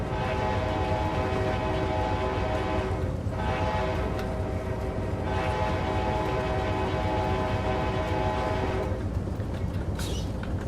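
An Amtrak P42 locomotive in Train Simulator 2017 with custom sounds roars along steadily with a loud engine drone, rolling rail noise and brief horn-like bursts, continuous and alone.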